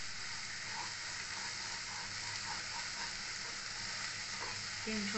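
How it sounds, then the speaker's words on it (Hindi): Masala of coriander and garam masala frying in oil for egg bhurji, stirred with a spatula: a steady, close sizzle that runs without a break, with soft scraping strokes and a brighter clatter near the end. "अभी तेल छोड़ने तक भूनेंगे।"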